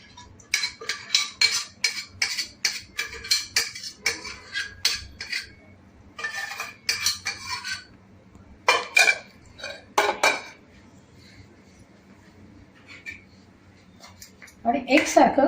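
A spoon stirring thick flour batter in an oiled, heavy-bottomed kadhai wok, with repeated close scraping clinks in a steady rhythm. A few pauses come before a last louder burst of clatter.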